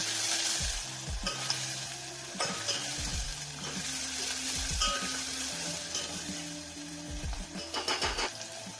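Tomato curry being stirred in a pan with ridge gourd: a spoon scrapes and knocks in uneven repeated strokes over a soft, steady sizzle, fairly quiet and close, with no voices.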